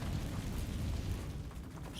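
A Confringo fire spell blasts in a video game, a low rumbling boom that stays heavy and steady for about two seconds, fairly quiet overall.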